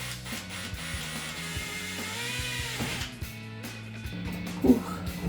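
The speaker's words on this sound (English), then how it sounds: "We can drill those out." Power drill boring holes with an 11/64 bit in a 2015-2023 Mustang during a wicker bill install, short whirring bursts that stop and restart, fairly faint and close.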